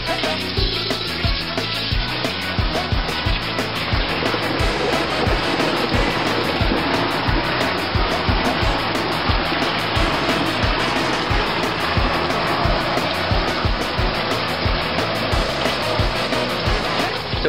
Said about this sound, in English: You see the bung area getting rinsed really well by the lower portion of the wash wand.